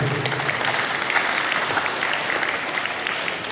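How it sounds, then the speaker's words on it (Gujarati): A school crowd gives sustained, energetic applause for the teachers at a campus celebration, dense clapping continuing evenly from start to finish. "જોરદાર તાળીઓથી"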